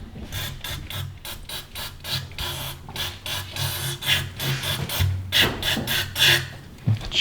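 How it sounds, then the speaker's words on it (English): Carbon being scrubbed off the throttle body plate of a Chevy S10, with repeated close scraping and rubbing strokes in an irregular rhythm and a few light metallic clicks, no talk. "go ahead and just rub all that carbon off"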